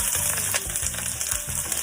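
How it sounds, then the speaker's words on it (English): Chopped onion sautéing in hot oil in a pan for Filipino fresh spring rolls, a steady close sizzle and crackle with soft stirring scrapes, alone without talk. "First, to saute, I always start with the onion so the garlic will not burn."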